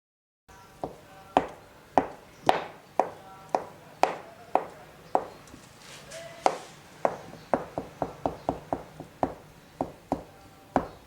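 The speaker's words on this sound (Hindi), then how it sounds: "दो सख्त उबले हुए अंडे लिए हैं और इसको हम चॉप कर लेते हैं" A knife chops two hard-boiled eggs on a cutting board, sharp knocking taps at an uneven, quickening pace, close and alone.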